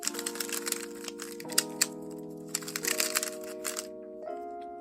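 A Dayan Guhong V4 M speedcube being turned, giving quiet, smooth clacks in quick bursts beneath louder background music.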